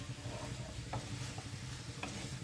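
Ground spice paste being stirred into vegetables in a hot pan, a soft continuous sizzle with scraping spoon strokes at an even, unhurried pace, close and fairly quiet, no talk.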